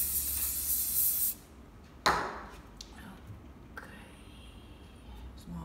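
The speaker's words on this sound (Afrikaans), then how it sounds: "Ek gaan nog net weer 'n bietjie spuit." Fixative aerosol sprayed over a soft pastel landscape drawing: a loud, steady hiss for just over a second, then a short second burst, with faint clicks afterward.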